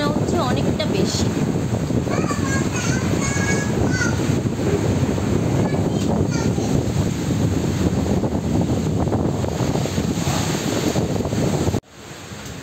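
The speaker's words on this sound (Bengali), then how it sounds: "বৃষ্টির চেয়ে বাতাসটা মনে হচ্ছে অনেকটা বেশি।" Strong Kalbaishakhi storm wind in Bagerhat, roaring in a dense, continuous rush against the microphone, with a few faint bird chirps and stray sounds beneath, cutting off abruptly near the end.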